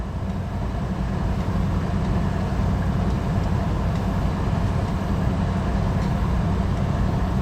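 A westbound BNSF freight train passing in Wisconsin, a steady loud low rumble of rolling cars and engine that holds evenly throughout, no voices.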